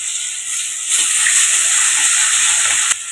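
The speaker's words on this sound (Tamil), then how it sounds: "2 பீஸாக போட்டு ஃப்ரை பண்ணலாம்" Tandoori chicken pieces fry in hot oil over a medium flame, giving a steady bright sizzle and hiss that swells slightly partway through and holds constant, close and alone.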